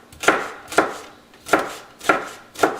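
Celery being chopped with a knife on a cutting board: five crisp, evenly spaced strikes in a steady rhythm, close up and clear, with no speech.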